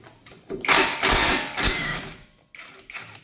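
A tool breaks loose a subframe bolt on a Volkswagen R36 during engine-removal prep, making a close mechanical grinding, ratcheting burst that lasts over a second, followed by lighter clicks and handling noise.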